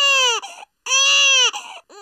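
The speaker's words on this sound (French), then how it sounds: "Oh là là, il fait trop de bruit, ce bébé." A cartoon baby wails loudly in a French children's animated show about a little brown bear, two long sustained cries broken by a short gap and ending in a brief whimpering sob.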